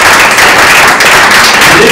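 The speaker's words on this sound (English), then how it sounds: "You can clap on that." A brief burst of audience clapping at a government education cabinet meeting, loud and dense, filling the short moment without pause.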